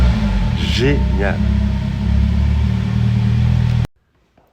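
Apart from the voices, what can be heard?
Morgan Plus 4 2.0 GDi engine starting after push button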